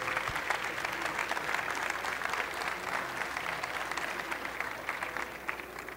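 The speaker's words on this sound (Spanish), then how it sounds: "Les voy a pedir un muy fuerte aplauso para Álvaro Aguilar" An entrepreneurship conference audience gives a speaker a warm round of applause, a steady wash of many hands clapping from a moderate distance, fairly soft and continuous.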